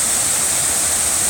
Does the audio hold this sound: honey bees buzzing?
no